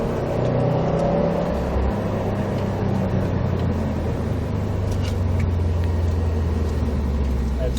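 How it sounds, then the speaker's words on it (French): A Subaru WRX STI at full throttle on a track, the engine note climbing as it gears up and staying loud and close, with a voice speaking over the engine. "Et vas-y, on accélère de plus en plus fort."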